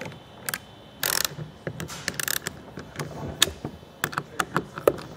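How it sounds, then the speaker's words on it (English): Nuts are tightened with a 7/16 wrench, giving a close series of sharp metallic clicks and ratcheting taps in irregular bursts, growing denser toward the end, with no talking. "I use a 7/16 wrench to tighten those four nuts."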